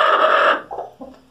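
A hen gives a loud drawn-out squawk followed by two short clucks, close by on a farm where a broody hen is sitting on eggs.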